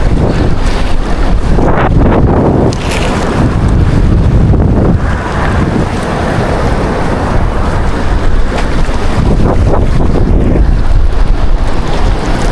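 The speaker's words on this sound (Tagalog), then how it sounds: "Lumalaban yung hangin." Strong wind roars and buffets the microphone continuously, with a rushing, surf-like wash underneath and no clear pauses.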